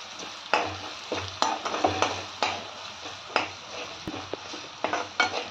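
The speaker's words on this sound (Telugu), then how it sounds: "గరం మసాలా పొడి, పసుపు, కారం, గరం మసాలా పొడి వేసి బాగా కలుపుకొని" Garam masala, turmeric and chilli powder are stirred in a frying pan: a continuous oily sizzle, broken by repeated rhythmic scrapes and taps of a spoon against the pan, close up, with no talking.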